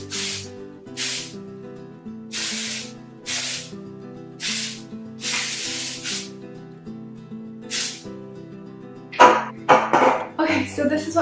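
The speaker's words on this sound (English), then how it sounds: "Spray again." Several short bursts of hairspray hiss from an aerosol can over soft background music, each lasting about a second, then a few quick clattering handling noises near the end.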